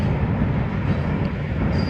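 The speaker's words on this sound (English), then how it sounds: "I love trains, I just don't like them when they're in the middle of my videos." A train rumbles past on tracks near an outdoor spot, a dense, steady, loud roar that fills the full two seconds without a break, with no voices over it.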